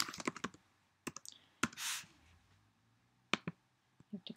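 Typing on a computer keyboard while naming a WordPress menu: quick clusters of close, crisp key clicks with pauses between, plus a short soft whoosh in the middle.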